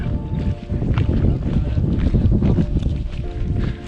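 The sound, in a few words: wind blowing on mountain trail in the Alps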